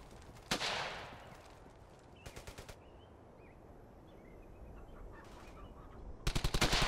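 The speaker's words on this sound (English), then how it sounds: "If you've seen, the MG team will open up" Machine-gun bursts in a Brothers in Arms World War II shooter: a sharp shot, then several short rapid rattling volleys at moderate distance, with a final loud close burst, between quieter stretches with faint chirping.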